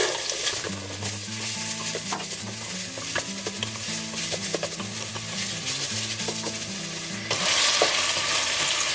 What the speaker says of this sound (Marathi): ऑनियन्स कातरून दवरलेलो आनी ग्रीन चिली ती घालया.